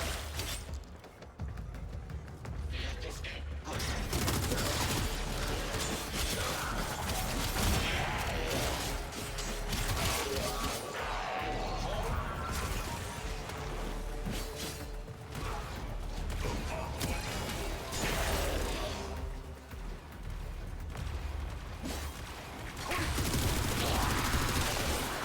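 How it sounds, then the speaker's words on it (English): Rapid, sustained fire from a low-recoil gun in the video game Warframe, loud and dense across the whole stretch with clattering mechanical bursts and whooshes layered on top. "Dude, this gun is like zero recoil."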